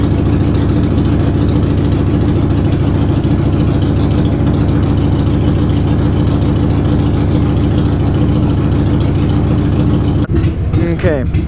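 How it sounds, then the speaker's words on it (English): A Harley-Davidson FXR motorcycle engine idles steadily while warming up, with a low, even rumble, running unchanged for several seconds before a brief clatter near the end. "Warming up my motorcycle right now."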